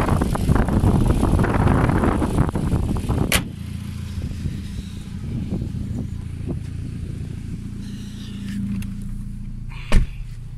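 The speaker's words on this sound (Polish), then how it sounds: "wiatr wieje, jak nie wiem" Wind buffets the microphone outdoors, a loud roaring rumble for the first few seconds, then easing to gentler gusts. A couple of sharp clicks break through, and no one speaks.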